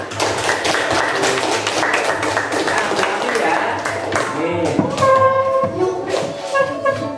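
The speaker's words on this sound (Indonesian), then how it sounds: "Tepuk tangan anak-anak" Children clapping their hands in a primary school class, a brisk patter of claps under a teacher's voice and classroom chatter, with a sung or chanted voice joining in the second half.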